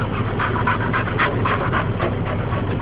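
A dog pants steadily and loudly close by inside a car, rapid rhythmic breaths over a constant engine-like rumble.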